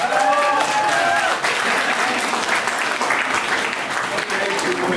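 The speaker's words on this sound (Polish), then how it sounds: "Wielkie brawa dla pary młodej." A wedding crowd applauds the newlyweds steadily with loud, sustained clapping that fills the whole stretch, with a few voices mixed in at the start.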